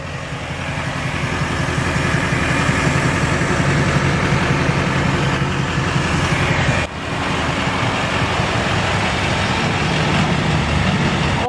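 A 2006 Hummer H1 Alpha Passenger Wagon idles with a steady, loud, deep exhaust rumble that runs unbroken, apart from a brief dip partway through.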